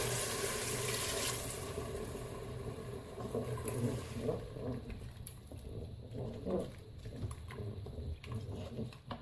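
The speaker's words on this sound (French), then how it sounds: "vous mouillez avec un demi-litre d'eau" Half a litre of water poured into a Cookeo multicooker pot for blended onion soup, a steady splashing stream at first that gives way to lighter trickles and drips.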